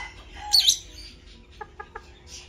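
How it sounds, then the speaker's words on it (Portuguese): An injured black hen clucks indoors: a brief high squeak, then three short, soft clucks evenly spaced, fairly faint against a quiet room. "A nossa galinha pretinha que está machucada, ela está cantando lá dentro."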